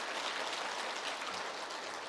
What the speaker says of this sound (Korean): 인사 나눌 때 큰 격려의 박수